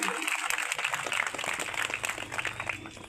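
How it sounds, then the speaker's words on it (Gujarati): An audience at a Gujarati government development-week event gives a round of applause as an official is welcomed with a bouquet. The clapping is moderately faint and steady, a continuous patter with no voices standing out. "જોરદાર તાળીઓથી વધાવી લઈએ"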